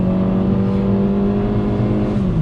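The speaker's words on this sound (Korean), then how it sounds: "이게 지금 가솔린 모델이니까 네. 고회전을 빡빡 쓰면서 한번 달려보는 거죠." A Kia Stonic with a 1.4 MPI gasoline engine revs hard at high rpm on the road, a loud, steady engine drone that holds its pitch, then drops slightly near the end, heard from inside with no talk.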